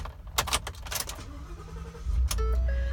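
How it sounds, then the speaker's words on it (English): Keys jangle and clicks sound before a 2013 Ford F-150 Lariat pickup truck engine cranks and catches, settling into a low, steady idle rumble. "I'm just going to start up the truck for you."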